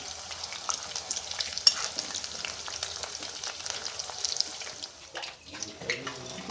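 Chicken pakodi pieces fry in hot oil with a steady soft sizzle and bubbling, punctuated by a few sharper crackles and the clink of stirring, fairly close but low in level.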